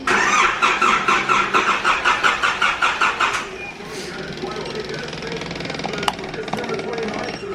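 Mitsubishi Evo 5 engine being cranked on its very first start after work on its chassis rails, a rapid rhythmic churning starter for about three seconds, then a rough, uneven idle that carries on close by.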